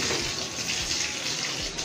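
Water gushes steadily from a tap during a dog's bath, a continuous close-up splashing rush with no break.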